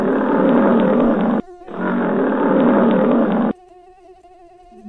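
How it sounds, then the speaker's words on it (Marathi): A lion roars loudly and alone in two long, powerful bursts with a short break between, then falls quiet apart from a faint tonal hum. "सिंहाची डरकाळी"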